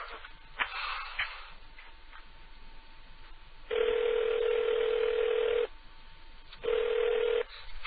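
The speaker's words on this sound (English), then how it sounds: "we're gonna call one of Neo's numbers" Telephone line ringing out during a prank call: handset noise and faint clicks at first, then a loud steady two-second ring tone, a pause, and a second shorter ring, all close and tinny.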